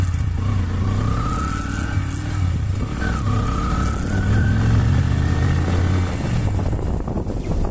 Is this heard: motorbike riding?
yes